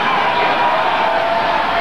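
A large festival crowd at a 1967 Brazilian popular music contest roars steadily, a dense wash of mixed applause and booing that holds at a constant loud level throughout.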